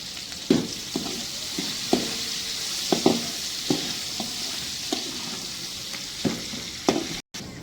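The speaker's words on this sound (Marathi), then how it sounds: "आता तेल गरम झालं आहे, छान कळकळ झालं आहे. तर कांदा टाकणार" Onion drops into hot oil on a wood-fired chulha and fries with a steady loud sizzle, punctuated by regular scraping stirs roughly every second.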